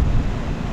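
Strong wind buffets the microphone on a beach, a loud continuous rumbling roar with no voices.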